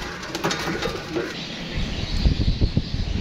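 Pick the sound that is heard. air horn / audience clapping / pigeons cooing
pigeons cooing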